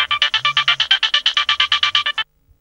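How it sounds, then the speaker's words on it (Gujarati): A mobile phone ringtone plays alone for about two seconds as a fast run of evenly spaced electronic chirps, then cuts off abruptly. "વાઇફનો ફોન છે"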